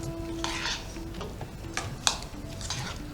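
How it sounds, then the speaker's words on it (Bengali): Leafy vegetable salad being tossed and mixed by hand in a bowl, with soft rustling swishes and a few light clinks of a utensil against the dish, close and steady over a low background hum. "এবার এটাকে ভালো করে মিশিয়ে নিচ্ছি"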